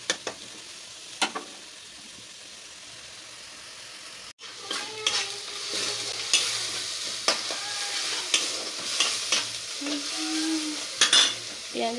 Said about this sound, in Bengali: পেঁয়াজ রসুনটা ভাজা ভাজা হয়ে এসেছে